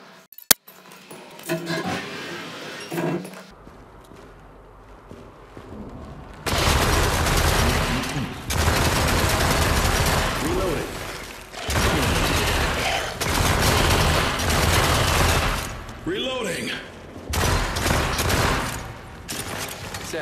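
Rapid bursts of gunfire from weapons in the VR horror game After the Fall, set in a quarantine center, come as loud, dense volleys separated by short gaps, with a quieter stretch of movement and breathing before the shooting starts.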